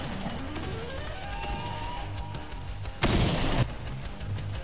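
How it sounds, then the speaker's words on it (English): Gunfire from the mobile shooter Tacticool, with a string of sharp close shots and a short, louder burst of fire over a continuous game noise bed. "I'm getting shot at from like three angles"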